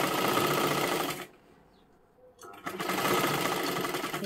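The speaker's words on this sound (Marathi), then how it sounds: "आता अशा पद्धतीने आपली ही शिलाई करत करत घ्यायची आहे" A sewing machine stitching a strip onto a princess-style blouse runs in a loud, fast, even mechanical whir, stops for about a second, then starts up again and runs steadily, close-up and without talk.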